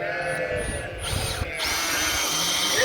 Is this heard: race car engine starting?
no